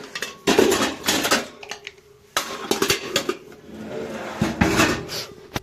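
A pressure cooker is scrubbed and washed in cold water outdoors on a rooftop, with metal lid and pot clanks and scraping in two loud bursts separated by a brief pause, no voices.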